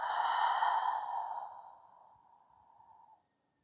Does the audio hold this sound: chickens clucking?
no